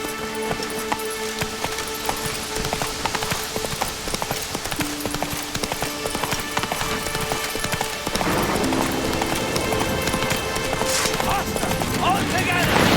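Roach the horse gallops in The Witcher 3, a quick steady clip-clop of hooves close by that grows louder and busier after a few seconds, with faint background sounds.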